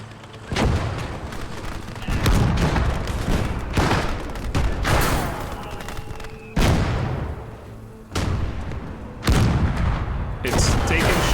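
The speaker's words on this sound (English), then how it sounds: "It's taking shots at my BT-7 right now." Tank gunfire in a video game, shots aimed at a BT-7: a string of loud, sharp cannon blasts fire at irregular intervals, each with a heavy booming decay, over constant battle noise.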